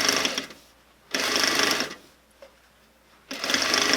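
Sewing machine running a loose basting stitch to attach an invisible zipper beside welt cord, in two steady whirring bursts separated by about two seconds of near silence, then a third burst starting at the end; close and fairly loud, with no talking.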